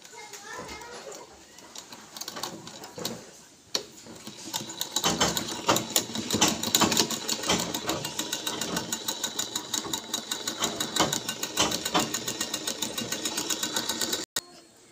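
A sewing machine stitches in a fast, even mechanical rattle that speeds up and runs steadily, close and fairly loud, with a person talking over the start.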